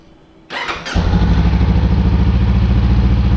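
A 2019 Honda CBR500R motorcycle fitted with a Scorpion exhaust starts up close by: a brief starter whir, then the engine catches and settles into a loud, steady, throbbing idle.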